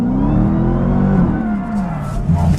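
A 2015 Dodge Challenger Hellcat muscle car's engine revs hard and loud as the back end comes around in a drift, the pitch rising and falling with throttle and a brief tire squeal near the end.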